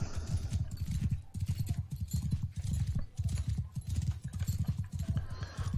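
Horse hooves clip-clop in the Mount & Blade II: Bannerlord video game, a steady, loud rhythmic trot of close, evenly spaced hoofbeats running throughout without pause.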